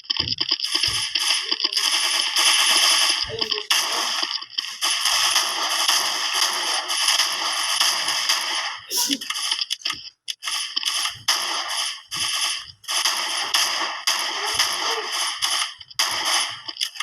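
Benelli M4 Super 90 shotgun firing repeatedly, sharp loud blasts and mechanical clatter in quick succession, some shots coming as doubled reports, close and continuous through the stretch.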